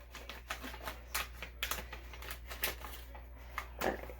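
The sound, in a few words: scissors cutting open snack packages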